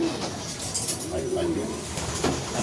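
Racing pigeons during a derby cooing softly nearby in low, rolling calls against steady outdoor background noise, with people talking over them.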